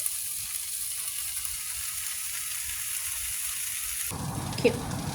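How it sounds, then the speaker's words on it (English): Vegan crumble keema sizzling steadily in a pan, a continuous bright hiss that grows louder and fuller after a few seconds with a brief clink of a utensil, close and without talk. "And now we're going to let that crumble cook just a little bit."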